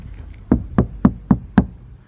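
Five evenly spaced knocks on a VW Passat B6 body panel, hollow and metallic, rapped close up against a faint background hum.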